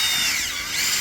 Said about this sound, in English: I'm just drilling into the ground.